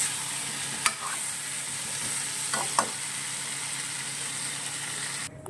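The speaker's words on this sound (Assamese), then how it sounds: "ৰঙালাও আলুখিনি ধুনীয়াকৈ ভাজি লৈছোঁ।" Pumpkin and potato pieces fry in a pan with a steady close sizzle, while a spoon scrapes and stirs them in a few distinct strokes.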